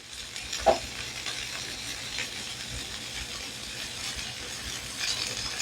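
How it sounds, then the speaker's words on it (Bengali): Chicken and boiled vegetables stir-frying in a pan for a Chinese-style dish, a soft steady sizzle with faint scraping stirs and one brief louder clink near the start, no talking. "সবজি দিয়ে চিকেনের সাথে ভালো করে একটু ভেজে নেব।"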